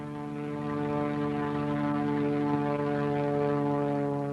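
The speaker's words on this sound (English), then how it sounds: "the miners fly out into the rainforest in small planes" Small propeller planes carrying miners into the rainforest drone steadily with a tonal engine hum, continuous and fairly close, with no voices.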